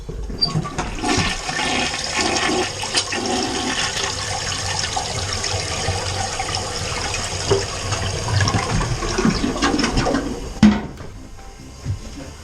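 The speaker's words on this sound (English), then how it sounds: "Give her a good flush, CB." A residential toilet at a summer house flushes with a loud, steady rush of water lasting about ten seconds, then a sharp gurgle and drain as the bowl empties and the tank begins refilling; no voices.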